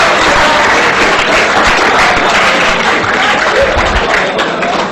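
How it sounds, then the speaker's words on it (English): Audience applause fills a hall at a competitive gaming event, the CGBC 2012, as a dense, loud wash of many hands clapping steadily for about five seconds. "give another round of applause"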